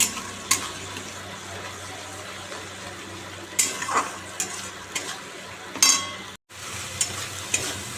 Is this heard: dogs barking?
no